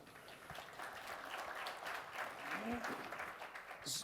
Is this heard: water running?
no